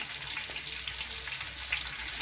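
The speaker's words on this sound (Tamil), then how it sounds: "பச்சை மிளகாய் கருவேப்பிலை போட்டுக்கணும்." Green chillies and curry leaves sizzle in hot oil for coconut rice, a steady hissing fry with faint crackles throughout, close and continuous with no talking.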